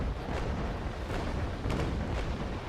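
Cannon fire from a brig in a Naval Action Legends PvP sea battle: a dense, continuous rumbling roar with a few sharper booms standing out near the end.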